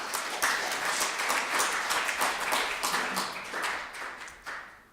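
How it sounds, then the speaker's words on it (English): An audience breaks into a sustained round of applause at a tech meet-up, dense clapping filling the room steadily for several seconds before thinning slightly toward the end. "Right, round of applause for Justin Chadwell."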